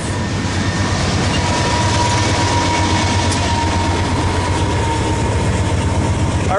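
A freight train with a rear DPU locomotive rolls past at Daggett near Barstow, a loud continuous rumble and grinding of wheels and engine, steady throughout with no voices.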